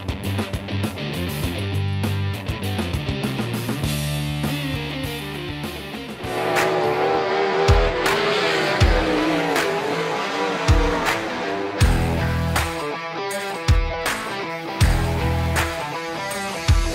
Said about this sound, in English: It's Sports and Wing Sprint Cars at Volusia.